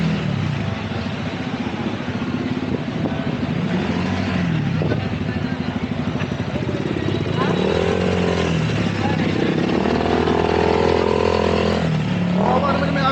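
A motorcycle engine runs steadily and then revs in rising and falling surges, loud and close, with people talking over it for much of the time.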